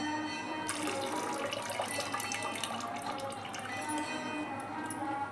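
Water pours steadily into buttermilk during homemade butter making for ghee, a soft, continuous trickling and splashing that stays faint throughout.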